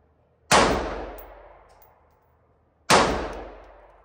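Two loud gunshots at an indoor gun range, each a sharp crack with a long ringing decay, spaced about two and a half seconds apart with near silence between.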